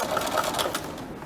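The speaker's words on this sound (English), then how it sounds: "Okay, sewing next to the teeth." A sewing machine stitches along a zipper flap next to the teeth in a steady, close, continuous run with fast mechanical ticking and no talk over it.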